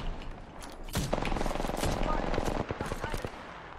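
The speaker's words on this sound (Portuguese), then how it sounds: "Vou esvaziar esses 18 tiros nessa R99 aqui." Rapid bursts of R99 submachine gun fire in Apex Legends, loud and close, with dense crackling shots in quick strings and another weapon's reports mixed in.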